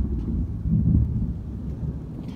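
Low rumbling thunder from a springtime thunderstorm rolls outdoors, swelling briefly then settling into a steady distant grumble with a hint of wind, no voices.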